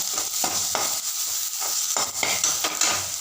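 Masala powder stirred into tomatoes and curry leaves sautéing in a pan for gooseberry rasam, a steady close sizzle broken by repeated scraping stirs about every half second.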